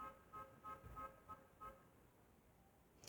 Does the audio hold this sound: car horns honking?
yes